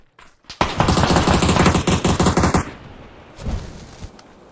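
Rapid bursts of automatic gunfire from a shooting video game, loud and close, rattling for about two seconds, followed by a fainter shot or two after a pause.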